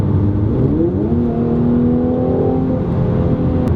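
A 2018 Mercedes-AMG C43 Coupe 4MATIC engine revs steadily, its rising and falling tone holding loud and continuous with no talk over it.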